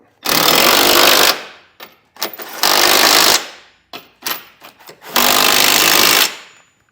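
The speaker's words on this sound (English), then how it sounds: "come back with a 19mm socket and snug all the hardware down" A pneumatic impact tool fitted with a 19mm socket snugs down Curt trailer hitch hardware on a 2018 Toyota RAV4, firing in three loud sustained bursts with short choppy rattles between them, close by.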